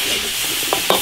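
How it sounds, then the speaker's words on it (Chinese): Beef stir-fried with chili sauce, soy sauce and seasonings in an iron wok, a continuous close sizzle with a couple of scraping stir strokes toward the end. "继续再炒个五分钟"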